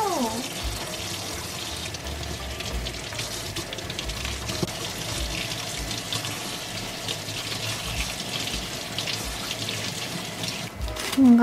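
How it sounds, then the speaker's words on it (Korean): Tap water runs into a kitchen sink while a cucumber is rinsed for a noodle topping, a steady close hiss and splash that carries on alone for several seconds and swells slightly near the end. "위에 고명으로 올릴 오이를 세척을 해놓겠습니다."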